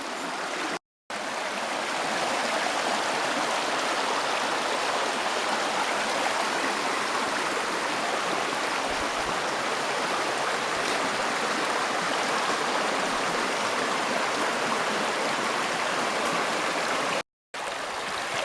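A creek runs fast after a flash flood, giving a steady, loud rushing-water wash that stays alone and even throughout.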